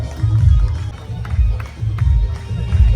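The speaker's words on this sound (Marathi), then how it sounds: "जोरदार टाळ्या वाजवा." Audience at a Marathi cultural programme prize ceremony clapping in loud, dense bursts that swell and ease, with crowd murmur mixed in.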